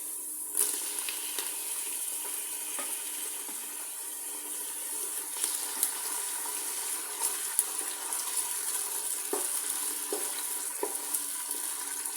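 Onions and tomatoes frying in hot oil in a home kitchen pan, a steady close sizzle with faint crackles and stirring clicks throughout, no talking.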